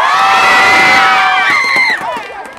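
Stadium crowd at a Nexen vs LG baseball game roars and cheers, loud and sustained with shrill whoops and shouts, fading toward the end as claps break through.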